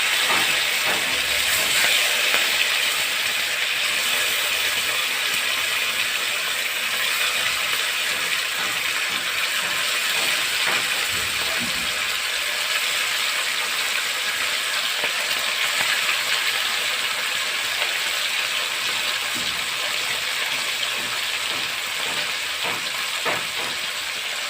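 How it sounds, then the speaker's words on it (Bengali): Amudi fish frying in a pan, a continuous close hiss and crackle of hot oil with scattered spitting pops throughout. "আমুদি মাছটাকে ভেজে নিচ্ছি।"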